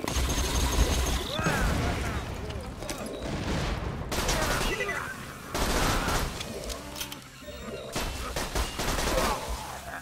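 Pistol fire in the video game Borderlands 2 cracks out in rapid repeated bursts, with several loud clusters of shots separated by short pauses over game ambience.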